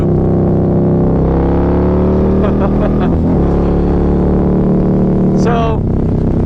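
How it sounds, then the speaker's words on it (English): A Harley-Davidson V-Rod motorcycle engine drones steadily on the highway, a close, loud, harmonic rumble that swells into a rising rev near the end, with some talk over it. "The bark on this motor, whew!"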